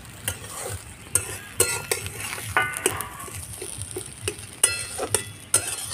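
Potato curry is stir-fried with spices and coriander leaves in a pan, with repeated sharp spatula scrapes and knocks in an irregular rhythm over a steady close sizzle, and no voices.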